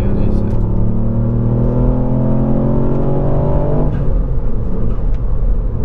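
A tuned Ford Fiesta MK8 ST engine revs hard, its loud rising drone climbing in pitch for about four seconds before dropping back to a rough idle rumble, with people talking over it.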